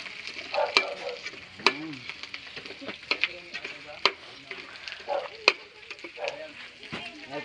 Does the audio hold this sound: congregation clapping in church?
no